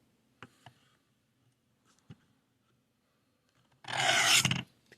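A knife blade drawn across a coarse stone on a Work Sharp guided sharpening system, one loud, close, gritty rasping stroke lasting under a second after a few faint taps.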